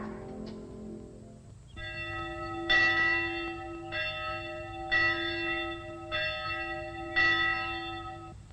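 Church bells peal in a slow, regular sequence, each strike ringing out with a bright metallic tone and lingering hum, the strokes spaced about a second apart with no voices.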